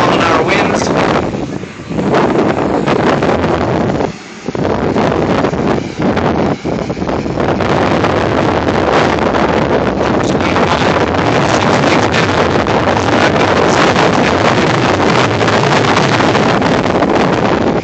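Strong gusting wind buffets the microphone outdoors near set-up inflatables held by stakes and stabilizer lines, a loud, continuous roar with brief lulls in the first few seconds.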